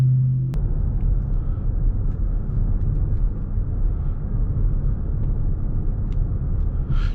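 A second-generation Toyota Mirai XLE fuel-cell car driving on the road gives a steady low cabin rumble of tyre and road noise, continuous and moderately loud with no voices, after a brief thump at the start.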